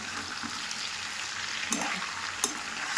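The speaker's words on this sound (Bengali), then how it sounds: "এখন এটা ঢাকা দিয়ে দেবো, হালকা ভাজা হবে" Mixed vegetables sizzle steadily in a hot pan, a constant crackling hiss with two brief sharp clatters near the end.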